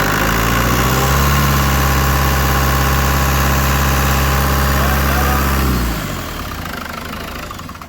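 A restored Land Rover 300tdi diesel engine idles close by with a steady, deep, even rumble, then shuts down and fades to a low background hum near the end.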